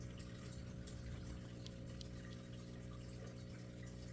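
Water in a goldfish aquarium being stirred up near a clogged filter, heard as a steady, faint wash and gurgle of moving water over a constant low pump hum, with no talking.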